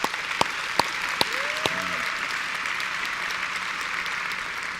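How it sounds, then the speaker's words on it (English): An audience applauds at an interview event: a sustained, even roll of clapping with a few sharp, louder claps near the start. "That deserves another round of applause,"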